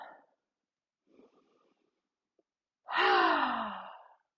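A person breathing during a beginner yoga session: faint soft breaths at first, then one loud, drawn-out exhale close by, with no talking.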